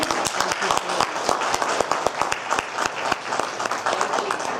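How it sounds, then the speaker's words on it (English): An audience at the ASO 2014 Forum applauds its presenters steadily, with many hands clapping in a dense, sustained patter at moderate volume. "I think we should applaud our presenters"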